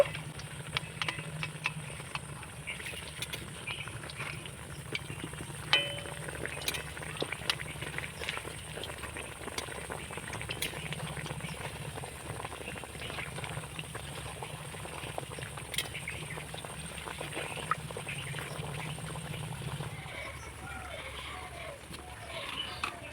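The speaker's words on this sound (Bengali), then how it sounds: "এবার আমি নাস্তাগুলোকে উল্টিয়ে পাল্টিয়ে ভেজে নেব" Potato snacks, made from grated raw potato, deep-frying in hot oil and turned over, giving a steady low bubbling with scattered crackles and spits and a background hum, moderately quiet and without talk.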